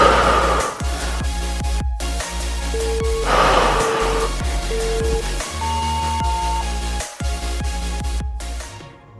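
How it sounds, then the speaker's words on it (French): During a beginner bodyweight exercise with no jumping, deep breaths go in while lowering and out while rising, several audible inhales and exhales in a slow repeating rhythm, close and unaccompanied by talk. "On inspire bien quand on descend et on expire à la remontée."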